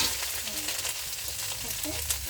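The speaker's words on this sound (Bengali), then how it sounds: "দিয়ে দেব আস্ত জিরা, দিয়ে দিলাম পেঁয়াজ বাটা আর আস্ত কয়েকটা কাঁচামরিচ" Whole cumin seeds, onion paste and a few whole green chillies sizzle steadily in a hot pan, a continuous close frying hiss with small crackles throughout and no talking.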